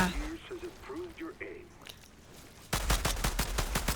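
Gunfire in a yandere video game, played on a notebook: a rapid, evenly spaced burst of loud automatic shots arrives suddenly after a stretch of quiet talking.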